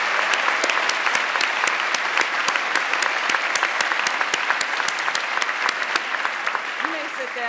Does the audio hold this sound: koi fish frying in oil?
no